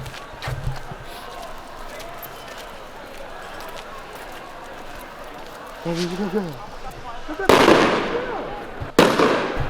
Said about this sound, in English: Somebody's putting up fireworks